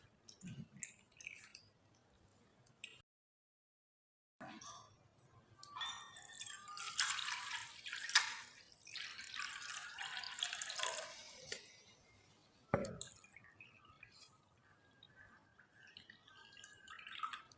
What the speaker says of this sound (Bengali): আমি এখানে বাটির মাপ করে 3 বাটি জল ব্যবহার করলাম।